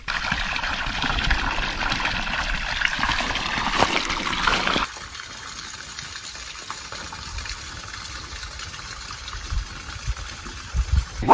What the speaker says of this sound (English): it's just a simple case of opening this tap, shutting this one off, and the canal fills up